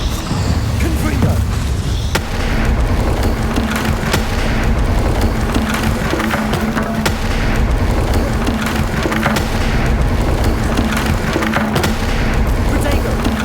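Crackling explosive bursts from a fire spell cast in a fantasy wizard game, with repeated booms and splintering debris over a dense, continuous bed of rumbling game noise.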